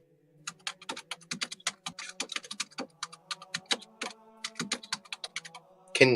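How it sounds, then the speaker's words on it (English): Steady computer keyboard typing, a rapid irregular run of clicky keystrokes close by, with no one talking. "Is my typing still loud?"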